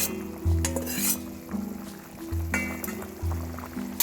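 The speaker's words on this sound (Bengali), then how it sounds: "এখন একটু ভালো করে নেড়ে চেড়ে নিচ্ছি।" Chicken with fried onions and garlic being stirred in a cooking pot for a Bengali-style chicken curry with potatoes. A spoon scrapes and turns the pieces in repeated strokes over a soft sizzle, close and fairly loud.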